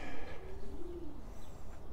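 Soft cooing of pigeons sheltering under a bridge by a creek, low and muffled against steady outdoor background noise.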